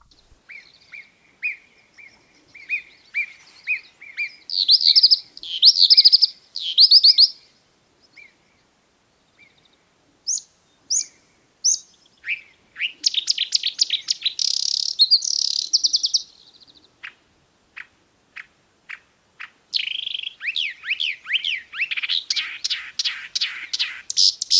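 A small migratory passerine sings a varied medley mimicking other European and African birds, with clear repeated chirps, trills and whistled phrases in bursts separated by short pauses, close and alone.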